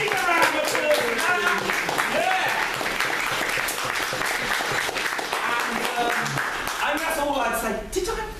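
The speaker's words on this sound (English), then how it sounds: "Can we give Vegan Ireland a round of applause?" A live audience at a vegan poetry event in Ireland gives a sustained round of applause, dense clapping with whoops and cheers mixed in, loud and steady throughout before tapering slightly at the end.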